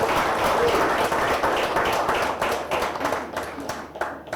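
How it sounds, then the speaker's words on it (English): A small gathering gives a round of applause for a police commissioner of the Western Ports Command in Lagos, with close, loud, continuous hand clapping that thins out and becomes more scattered toward the end. "A round of applause for the CP, please."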